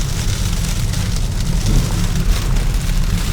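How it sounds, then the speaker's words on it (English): Sleet and snow patter steadily against a Tesla driving through a St. Louis snowstorm along a plowed path, a dense continuous hiss of icy pellets over a low road rumble, with no talking. "We got sleet and snow."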